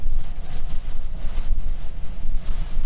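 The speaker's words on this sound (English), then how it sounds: "There's definitely been hurricane force wind gusts" Hurricane-force wind gusts from Tropical Storm Nicholas near Matagorda, Texas, roar and buffet the microphone in continuous surging waves of broadband rushing noise, with no voices.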